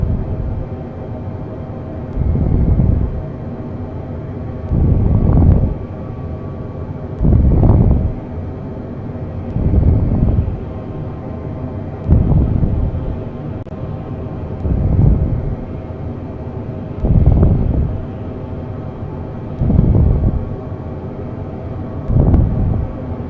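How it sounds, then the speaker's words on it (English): Wind in Microsoft Flight Simulator 2020 during a Boeing 777 flight from Lisbon to Paris rises and falls in regular whooshing gusts, about every two and a half seconds, heard as a low, loud rumble with no speech. "Got some wind here."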